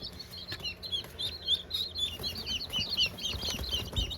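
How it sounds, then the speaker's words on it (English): Brahma and golden laced Wyandotte chickens cluck and chirp in a busy, continuous chatter of short repeated calls close by, with faint background noise and no talking. "That's Molly's little Brahma chicken."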